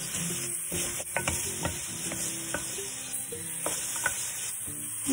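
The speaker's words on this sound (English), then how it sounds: "Continue stirring until it's nicely browned." Pork browns in a frying pan with salt and garlic, a steady close sizzle broken by the scrape and clack of a utensil stirring in irregular strokes.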